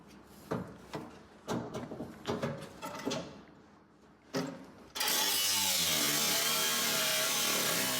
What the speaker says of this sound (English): one of the bolts inside is just twisting and it's super rusty, so we're gonna have to cut it off